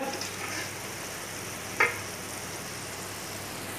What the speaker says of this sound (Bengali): খাসিটা একটু বড় সাইজের ছিল, আপনারা দেখুন এই তেল সমেতই রান্না হচ্ছে।